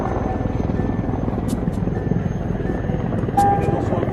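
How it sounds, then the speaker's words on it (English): A steady helicopter rotor drone fills the clip, constant and fairly loud, with a voice talking over it and brief high ticks; an attack helicopter with the UN MINUSCA mission in the Central African Republic. "Attack helicopters and other aircrafts for tactical operations"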